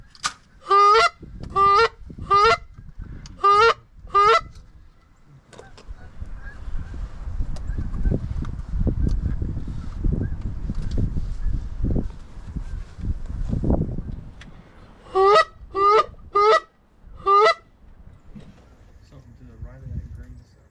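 Regular groups of loud, clipped honks from geese or a goose call during a goose hunt in Georgia open and close the clip, with muffled talk and rustling in between.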